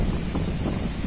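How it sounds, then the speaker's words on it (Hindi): Heavy rain and gusting wind battering a microphone outdoors in a village field during a storm, a loud, steady roar of buffeting noise with no distinct pauses. "इतना बारिश हो रहा है, हवा चल रहा है।"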